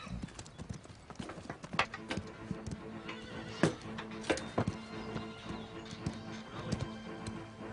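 Horse hooves clopping irregularly at close range, with scattered sharp knocks and a brief whinny, over low background rumble and no speech.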